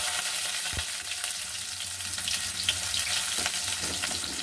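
Chopped onion fries in hot oil with whole cumin and chili, a dense, steady sizzle close by with a couple of light stirring taps, no voices.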